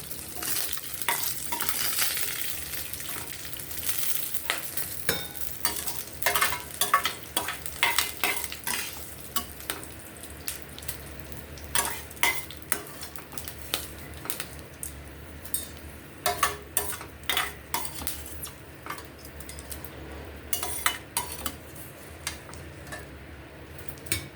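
Ingredients fry in a pan for a tomato, mint and coriander chutney with a quiet, continuous sizzle, punctuated by frequent crisp scrapes and taps of a spoon stirring against the pan.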